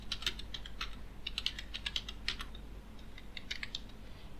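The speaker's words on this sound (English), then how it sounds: "So I'm writing my password." Password typed on a computer keyboard during a Kali Linux install, heard as a brisk, close run of uneven key clicks in short bursts with brief pauses, no voices.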